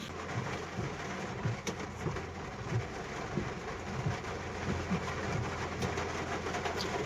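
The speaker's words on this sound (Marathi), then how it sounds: "पाऊस बघा पुण्यामध्ये कसा चालू आहे भरपूर जोरात पाऊस चालू आहे" Heavy rain pours in Pune near an IT park, a steady dense hiss with scattered heavier drips and a low rumble underneath, heard from inside a vehicle with no talk.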